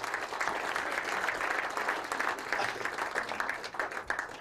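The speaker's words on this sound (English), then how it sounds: "Give him a nice round of applause, ladies and gentlemen" Applause from a comedy show audience greeting a man called up to the stage, a continuous, fairly quiet patter of many hands clapping with no talk over it.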